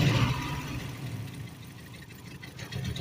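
A car engine misfiring and running on only three or four cylinders, a low uneven idle with a rough, lumpy thumping rhythm that stays moderately loud and close throughout.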